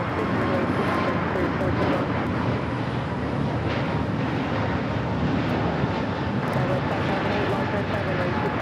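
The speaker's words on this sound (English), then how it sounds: "This is American Airlines 2239 taking off to Phoenix on the A321neo." An American Airlines A321neo, flight 2239 to Phoenix, takes off at LAX with a loud, continuous broadband engine roar, heavy and sustained throughout, with some wind buffeting on the microphone.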